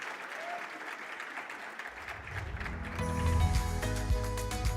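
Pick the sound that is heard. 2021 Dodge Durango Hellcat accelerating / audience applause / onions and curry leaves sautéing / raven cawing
audience applause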